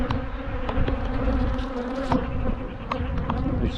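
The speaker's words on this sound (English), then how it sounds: "Come on bees, you can go away now" Close, steady buzzing of bees from apiary hives around the microphone, with a continuous droning hum that rises and falls as insects pass by.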